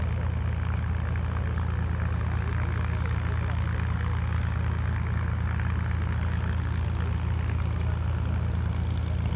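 A deep, steady Hawker Sea Fury propeller warplane engine drone hums loudly and continuously at close range while taxiing, with a low throbbing idle and no pauses.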